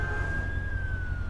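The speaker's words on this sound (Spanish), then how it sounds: "¿Estoy en la ambulancia?" Ambulance siren in the video game Driver San Francisco, a steady sustained wail sliding slowly downward over a loud engine rumble, close and continuous throughout.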